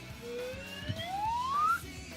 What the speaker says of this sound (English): I'm a simple man. I like slide whistles.